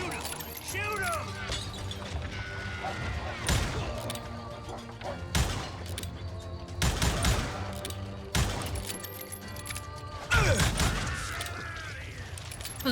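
Gunshots from the Wild West shooter Call of Juarez, several sharp blasts at irregular intervals over a busy game soundtrack, with voices speaking in between.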